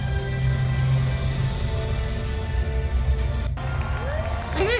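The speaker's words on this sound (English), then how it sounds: "Like, why are they applauding?" Crowd at a video game presentation cheering and applauding, a loud dense wash of clapping and shouts lasting throughout, with a voice speaking near the end.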